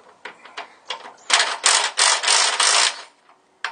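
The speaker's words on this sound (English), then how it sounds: "I'm going to be using a Craftsman bolt driver to take them apart" A Craftsman bolt driver loosening control arm bolts on a 1955-57 Chevrolet, a close, loud burst of rapid mechanical ratcheting whirs in several pulses, preceded by lighter clicks, with no talking.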